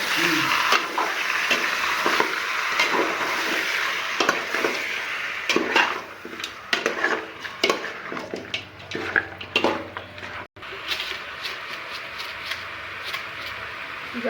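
Spices for chicken biryani sizzle and crackle in hot oil, with stirring scrapes and occasional clinks of a pan, continuous and close.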